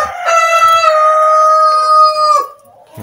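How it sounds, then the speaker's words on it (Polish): A rooster crows once, a long, loud, drawn-out call close by that fades at the end, with a faint low sound after it. "Koguty zaczynają piać"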